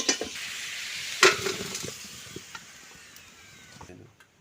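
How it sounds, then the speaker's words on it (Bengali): Oil sizzles softly in a pan after potatoes have been fried, a steady faint hiss with a sharp clink of a utensil early on, fading out toward the end. "আলু ভাজা তেলের মধ্যে আর অল্প একটু তেল দিয়ে দেবো।"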